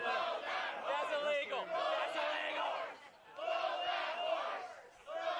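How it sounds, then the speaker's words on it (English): A large arena crowd chants in unison at a professional wrestling event, loud and sustained in rhythmic waves with cheering between phrases and a brief dip near the middle. "They're chanting, "Throw that horse.""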